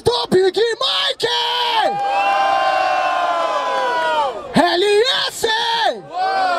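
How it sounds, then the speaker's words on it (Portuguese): At a Brazilian freestyle rap battle in Barueri, São Paulo, a crowd roars loudly, mixing cheers, whoops and shouted chants that swell into a sustained wall of voices before breaking into bursts of yelling. "Barulho para as rimas do Big Mike!"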